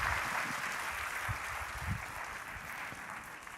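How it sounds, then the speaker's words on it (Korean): A congregation applauds during a Sunday worship service at a Korean church after a member shares her testimony; a steady, fairly faint wash of many hands clapping, continuous and even without pauses. "여러분 뜨거운 박수로."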